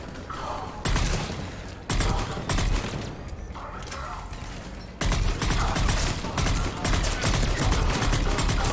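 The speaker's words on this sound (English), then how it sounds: "Crap, they've got a turret in place." Automatic turret gunfire in the Mass Effect 3 video game: dense, rapid bursts of shots that cut in and out, with loud sustained volleys and short pauses between them, and a voice barely present underneath.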